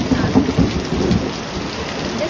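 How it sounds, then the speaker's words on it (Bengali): Heavy rain pours down steadily during a thunderstorm, a dense close hiss on surfaces with a low rumble of thunder underneath, with no voices. "দেখো কি জোরে বৃষ্টি নেমেছে, এত জোরে বৃষ্টি পড়ছে সে আর বলার মতো না"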